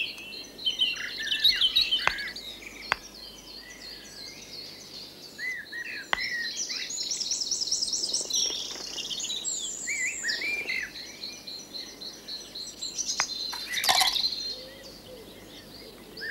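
Small pet bird chirping repeatedly during an intelligence test with trays to open, bright tweets and short calls scattered over the whole stretch, fairly close, with no talking.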